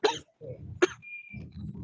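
Two sharp, close coughs break out a moment apart over a Zoom video call, each followed by a rough, breathy rumble, with a brief thin tone in between.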